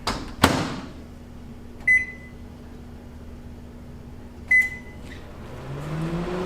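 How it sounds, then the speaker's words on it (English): A microwave oven melting a stick of butter hums steadily with a low drone, marked by a clunk of the door at the start and two short electronic beeps partway through. "So we'll put this stick of unsalted butter in the microwave to melt it."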